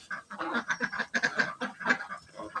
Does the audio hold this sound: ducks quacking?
yes